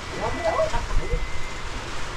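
Steady rain falls on a Philippine project site, a continuous close hiss of drops on surfaces with a few brief clatters, while voices murmur faintly underneath.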